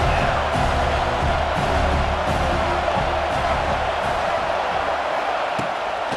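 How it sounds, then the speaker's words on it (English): A stadium crowd roars loudly and steadily behind the defense on third down at a football game, a dense wall of cheering that fills the whole stretch with no break. "Decibels rising as the crowd gets behind this defense on 3rd down."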